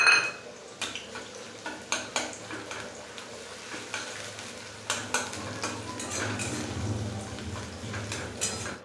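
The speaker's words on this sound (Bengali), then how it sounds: "পেঁয়াজগুলো লাল করে ভেজে নেব।" Chopped onions fry until reddish in a pan for an egg curry, with a soft sizzle under repeated clinking scrapes of a spoon stirring against the pan at a steady rhythm.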